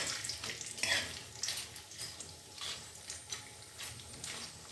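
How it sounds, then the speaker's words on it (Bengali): Cashews and raisins fry in hot oil for Bengali sweet Basanti pulao, giving a steady close sizzle with scraping, clattering stirring strokes that come and go throughout. "এই সাথে আমি এখানে কাজু কিশমিশ ওই তেলেই আমি দিয়ে দিচ্ছি"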